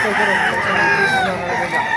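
Several chickens and roosters crowing and clucking at once, loud and close, overlapping in a busy, continuous chorus at a poultry market in Baliuag, Philippines.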